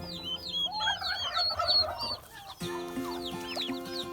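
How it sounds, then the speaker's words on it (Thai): Turkey chicks, newly hatched, peeping in a dense overlapping chorus of high chirps, close and lively, with a brief lull before the calls resume. "นี่ครับ นี่ลูกไก่งวง"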